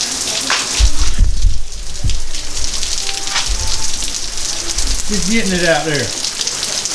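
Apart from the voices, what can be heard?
pouring rain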